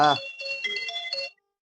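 A mobile phone ringtone plays as a short, close, melodic run of bright electronic tones, starting just as a brief voice cuts off and then stopping abruptly into silence.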